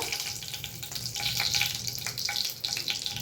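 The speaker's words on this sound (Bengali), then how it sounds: "এবারে এই সাদা তেলের মধ্যে আমি একটুখানি ঘি দিয়ে দেব।" Ghee and bay leaves sizzle steadily in hot white oil in a pan while cooking malai paneer, a loud continuous frying hiss with a few small crackles and no talk.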